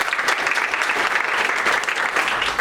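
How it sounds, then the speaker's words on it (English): A sales meeting audience claps together in a dense, steady burst of applause lasting a couple of seconds, loud and close with no pauses. "A lot of clapping today."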